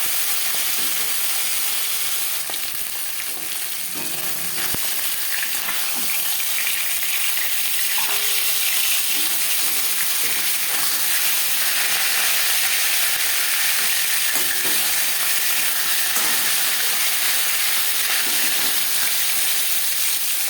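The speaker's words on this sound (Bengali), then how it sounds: "মাছ ভাজার সময়" Continuous bright sizzling of tilapia fish frying in hot oil, steady and close, with occasional soft clinks and no talking.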